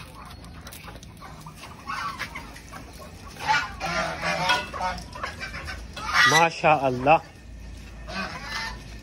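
Ducks and turkeys being fed millet in a yard call out in bursts of quacking and gobbling, growing louder near the middle, mixed with people talking close by.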